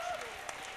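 A congregation at a church young adults' worship service claps briefly, a soft, somewhat thin patter of applause in a large room, with faint voices underneath.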